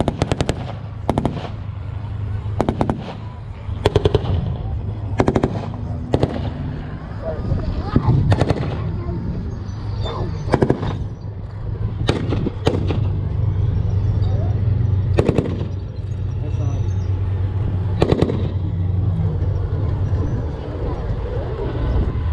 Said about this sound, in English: So reconnaissance has pulled in the fire support from the CBRTs, firing away with their 75mm weapon.